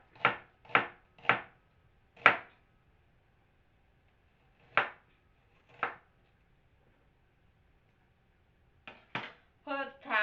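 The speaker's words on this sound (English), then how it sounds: "One onion chop it off. Chop the piece like that." A knife chops through an onion on a cutting board in a home kitchen, giving three quick sharp cuts, a louder chop, then two more spaced strokes and a final cluster of rapid chops, close and clear with no talking.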